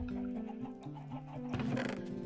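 Chickens in Minecraft cluck in a steady run of short calls over a continuous musical tone, with a busier burst of clucking toward the end.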